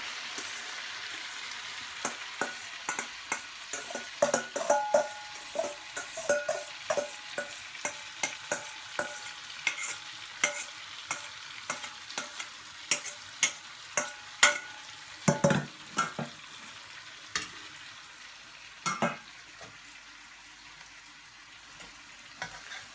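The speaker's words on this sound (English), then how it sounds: "I'm going to brown the onions." Six finely chopped medium onions frying over a high flame, a steady close sizzle punctuated by frequent sharp clicks and scrapes of a spoon stirring against the pan.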